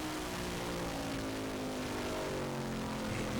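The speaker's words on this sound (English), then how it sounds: "You can hear the throttle." Stock car engines roar under sustained throttle during a 2000 USAR Hooters Pro Cup Series race at USA International Speedway, a loud continuous engine drone with a steady pitched whine throughout.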